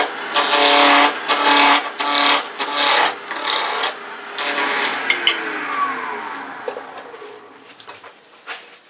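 A wooden chess bishop blank is roughed out on a woodturning lathe, giving a loud, close, chattering series of rasping cuts in bursts that give way to a quieter, smoother whir and scattered light taps.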